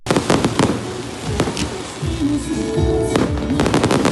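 Christmas fireworks bursting over a monastery after a service, a loud series of booms and crackling pops that overlap and echo, some close and sharp, others rumbling further off.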